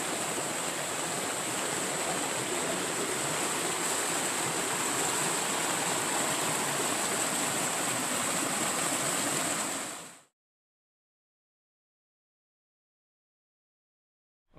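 Steady, loud rushing of water pouring down a driveway ditch at a garden site, a continuous broadband roar with no voices, cutting off abruptly into silence near the end.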